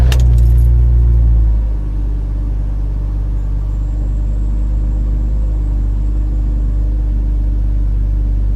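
BMW Z4 engine idling steadily after a spark plug change, a close, even low rumble with a brief louder start-up burst at the beginning, then a smooth constant drone with no talk.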